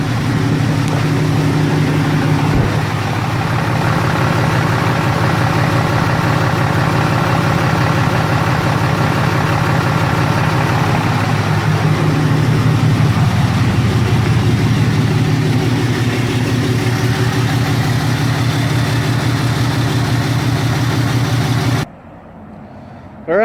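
A 6.7 Cummins diesel truck engine idles loud and steady with a deep rumble throughout, stopping abruptly near the end.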